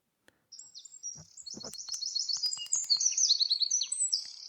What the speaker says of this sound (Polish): mamy tutaj strzyżyk i mamy nagranie